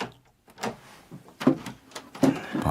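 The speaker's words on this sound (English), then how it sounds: "And then I heard the door." A door opens in a quiet interior, heard as a few separate clicks and knocks of the latch and handle, then a creak and soft thuds over about three seconds, with no voices.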